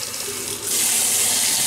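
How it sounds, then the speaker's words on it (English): Hot water runs steadily from a bathroom sink tap, a continuous close hiss of flowing water that grows fuller and louder partway through as the stream increases, with no voices. "I'm gonna let this hot water go a little bit."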